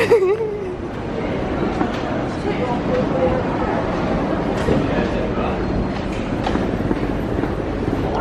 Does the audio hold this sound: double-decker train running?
yes